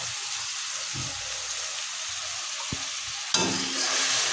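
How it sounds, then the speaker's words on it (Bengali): Spice paste of ground green chili and garlic with roasted cumin, coriander and turmeric fries in a pan, sizzling steadily under occasional stirring scrapes, then jumping to a louder, fuller sizzle near the end. "ভালো করে কষিয়ে নেব মশলাটাতে"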